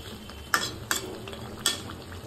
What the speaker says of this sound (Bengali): তো এবার আমি পরিমাণ মতো একটু জল দিয়ে দিলাম